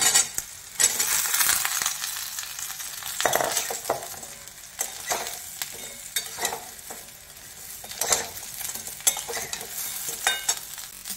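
Paneer pieces frying in a pan with green chillies and curry leaves give a steady sizzle, broken by repeated scrapes and clinks of a spoon stirring against the pan, close and fairly loud with no voices.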